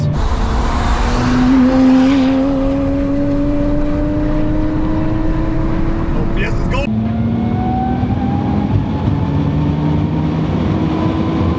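A 1983 Toyota Celica with a big-turbo 1JZ engine and W58 manual gearbox pulls hard, a loud rising engine tone climbing steadily before a gear shift drops the pitch near the middle, then climbing again under cabin rumble.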